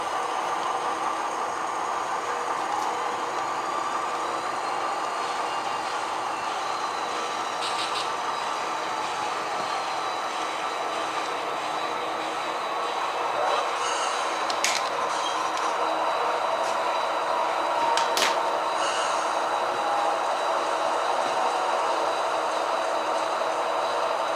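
Locomotives of a local consist idling and starting up in a rail yard, a steady broad rumble with engine drone that swells slightly later on, heard from a distance with no voices.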